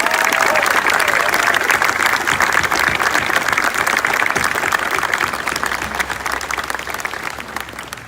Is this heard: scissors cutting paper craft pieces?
no